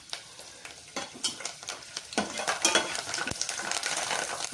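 Curry leaves dropped into hot oil in a deep pan crackle and sizzle, with scattered sharp spits and a clink of a stirring utensil, the frying growing busier and steadier over a few seconds, no voices.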